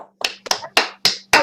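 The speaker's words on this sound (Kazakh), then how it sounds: "Шапалақ" Five sharp hand claps at an awards announcement for a mining engineering class, spaced evenly and close, with a faint steady hum underneath.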